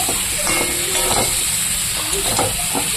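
Boiled potatoes being sautéed with spices in a pan give a steady close sizzle and hiss, with a few light stirring scrapes breaking through.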